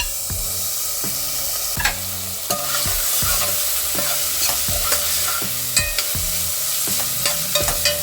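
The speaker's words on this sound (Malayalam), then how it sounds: "ഇനി നമുക്ക് ഇതിനകത്തോട്ട് നേരത്തെ ചോപ്പ് ചെയ്ത് വെച്ചിരിക്കുന്ന ഇഞ്ചിയും വെളുത്തുള്ളി ഇട്ട് കൊടുക്കാം" Ginger and garlic fry with onions in a pan for a mutton curry, giving a steady sizzle broken by repeated scrapes and clacks of a stirring spoon, close and fairly loud with no talking.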